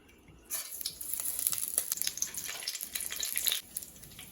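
Whole spices, including fennel seeds, drop into hot oil and sizzle loudly with crackling pops for about three seconds, then the sizzle suddenly quiets.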